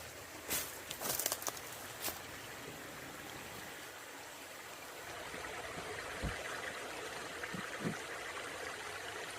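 A creek flows steadily through a wildlife reserve on a hike, a faint continuous wash of running water with a few scuffing footsteps and brushing sounds early on.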